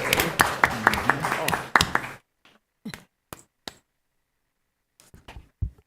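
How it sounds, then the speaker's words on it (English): Brief burst of clapping at a board of education meeting, a couple of seconds of claps over people talking, then a few scattered isolated claps and taps in near quiet. "let's get a clap for that, because that's exciting."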